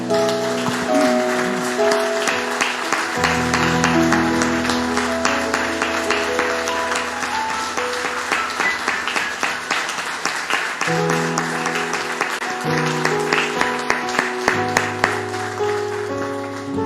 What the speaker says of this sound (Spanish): Le damos un aplauso al Señor, hermanos.